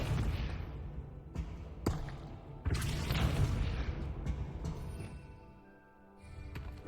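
A Depulso spell cast in the Hogwarts Legacy video game, a few sharp magical whooshing bursts and thuds, loud and close, over a continuous ambient game background.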